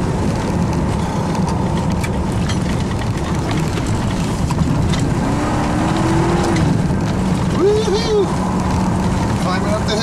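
A Chevrolet Tahoe engine pulls up a hill in second gear with a loud, steady drone and road rumble, and people talk over it throughout.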